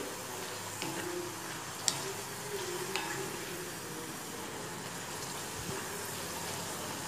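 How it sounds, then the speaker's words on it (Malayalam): Jackfruit pieces frying in hot oil with turmeric give a steady, even sizzling hiss that runs unbroken throughout, close and moderately loud, with a couple of faint clicks and no speech. "ഇതിൻ്റെ മൂപ്പെന്ന് പറയുന്നത് ഒരു ഗോൾഡൻ ബ്രൗൺ കളർ ആകുമ്പോഴാണ് ഇത് നമ്മൾ ഫ്രൈ ആയി എന്ന് മനസ്സിലാക്കുക"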